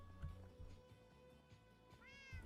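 Cats in a cat cafe in the Minecraft video game give soft meows, then one clear rising meow near the end, quiet against a low steady in-game background.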